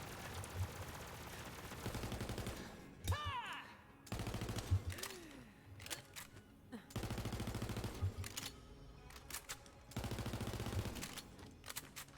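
Elemental guns firing in Borderlands, heard as rapid automatic bursts that repeat in several volleys, separated by brief pauses and faint game effects, fairly quiet overall.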